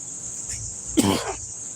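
A man gives one short, sharp cough over a faint steady insect-like hiss in the background.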